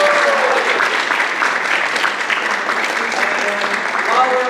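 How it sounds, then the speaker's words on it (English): Audience at a school drama workshop applauding, with steady, dense clapping that fills the whole stretch at close range, and a voice speaking over it. "While we're applauding"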